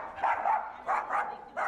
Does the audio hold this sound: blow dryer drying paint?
no